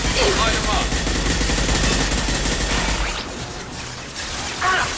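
Sustained suppressing gunfire in the Mass Effect 2 sci-fi shooter, a dense continuous rattle of automatic weapons with whooshing effects, loud throughout with a brief dip before a final burst.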